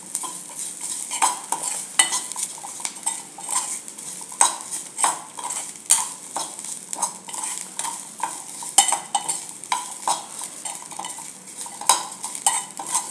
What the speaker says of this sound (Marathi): आता याच्यात घालूया ओल्या खोबऱ्याचे तुकडे, तेही अगदी थोडंसं परतून घ्यायचं आहे